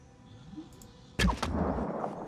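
Gunfire in the Phoenix Point tactical video game: a sudden loud burst of close shots, then a sustained crackling rumble of impact and debris after a quiet lead-in.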